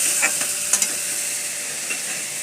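Shrimp with mixed vegetables stir-frying in a pan, a steady loud sizzle with a few light scrapes and clinks of the stirring utensil, no voices.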